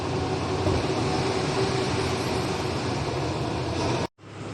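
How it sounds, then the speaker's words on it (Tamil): Vehicles in heavy stopped traffic on a road in Kerala make a steady, dense rumble of idling engines that cuts off abruptly just before the end. "ஹெவி டிராஃபிக் ஜாம் பாருங்க."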